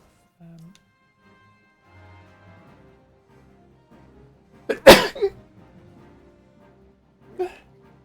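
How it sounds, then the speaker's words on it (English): A single sharp, loud sneeze bursts out at close range midway through an otherwise quiet stretch, followed by a brief softer exhalation and a small later noise, with faint sounds before it. "Apologies for sneezing."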